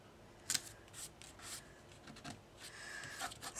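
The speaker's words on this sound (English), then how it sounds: "I'm just going to peel that off." A sticker is peeled from its backing while making a papercraft envelope, producing soft, close crackling rasps and brief tearing scrapes in several short bursts, quiet with no talking.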